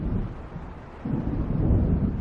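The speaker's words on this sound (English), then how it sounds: "It seems there's a storm coming." Low thunder rumbles from an approaching storm in the video game Alan Wake Remastered, a deep rolling swell that builds louder in the second half, with no speech over it.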